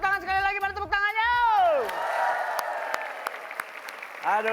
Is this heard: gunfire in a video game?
no